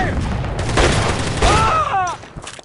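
Gunfire rattles in the war video game Shadow Ops: Red Mercury, with loud bursts of shots and booms mixed with in-game voices shouting over the fire before it fades out.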